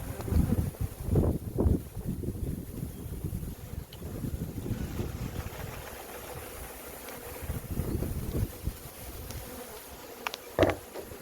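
Honey bees drone in a dense, continuous hum at an open hive in an outyard during a mite wash and hive check, with gusts of wind rumbling on the microphone.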